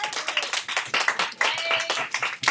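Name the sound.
students clapping in a classroom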